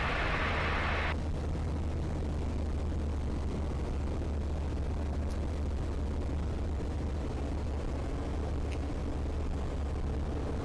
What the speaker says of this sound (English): I'm going to close the throttle here.